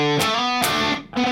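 An electric guitar plays a distorted run: three loud, sustained picked notes in quick succession, with no talking.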